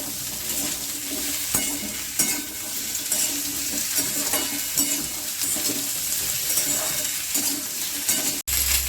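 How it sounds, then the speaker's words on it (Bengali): Steady frying sizzle of vegetables, including carrot, in a pan, with occasional scraping stirs, loud and continuous, cutting off abruptly near the end; no talking. "দিয়ে এবার হালকা করে ভেজে নেব"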